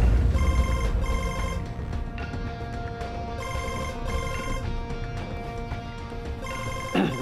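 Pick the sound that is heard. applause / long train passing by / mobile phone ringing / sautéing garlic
mobile phone ringing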